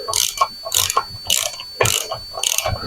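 A ratchet wrench torques up a bolt in five quick bursts of close, loud, rapid clicking, with short pauses between strokes and no talk.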